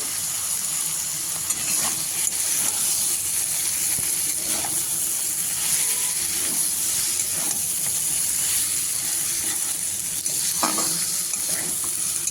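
Fried potatoes and flat beans go into a hot pan and fry with a steady, close sizzle and hiss, along with scraping and stirring sounds throughout and no talking.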